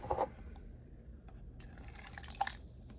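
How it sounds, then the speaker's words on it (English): Pink lemonade Bucked Up energy drink poured onto a countertop gives a quick splash at the start, then scattered soft drips and trickles, quiet and close, with no voices. "I pour it on the countertop."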